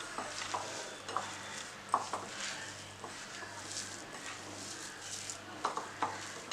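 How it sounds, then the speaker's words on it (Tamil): A spoon stirs vegetable kofta mixture with bread crumbs in a bowl, making soft, quiet scraping and mushing with scattered light utensil clinks against the dish. "இது எல்லாத்தையும் நம்ம வந்து நல்லா கலக்கி விட்டுடலாம்."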